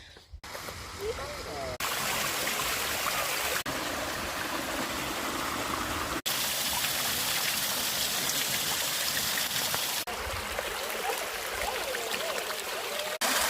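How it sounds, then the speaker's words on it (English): A river stream flows near a waterfall on a forest hike, a constant loud broadband rush of water close by with occasional voices faintly beneath it. "There's this river here, so the waterfall has to be close by."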